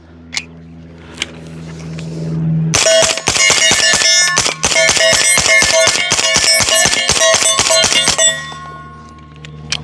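A 9mm pistol fitted with a Novox barrel fires a rapid string of shots at steel targets, sharp loud reports each followed by a ringing clang of struck steel, dozens in quick succession, no talk.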